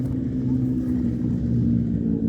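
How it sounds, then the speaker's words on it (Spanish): Steady car traffic rumbles through a park, a continuous low engine drone that stays fairly loud throughout. "Mucho ruido de auto, ¿no?"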